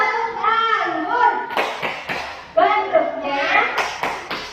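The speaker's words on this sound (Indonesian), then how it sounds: "Yuk kita ulangi lagi tepuk anggur ya." Children chant a rhythmic clapping rhyme about grapes in a kindergarten class, voices rising and falling with sharp bursts of hand claps punctuating the chant.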